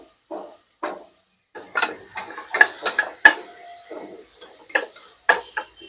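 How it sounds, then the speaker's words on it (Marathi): Lentils sautéed in a pan with cumin powder, salt, curry leaves, kokum and turmeric: a spoon scrapes and clanks against the pan in irregular bursts, with a faint sizzle underneath, close and fairly loud. "सर्व परतून घ्यायचं डाळ टाकली डाळ ही परतून घ्यायची"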